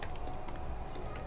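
Keys clatter on a computer keyboard in short quick bursts, a few irregular taps within about a second, close but faint over steady background hiss.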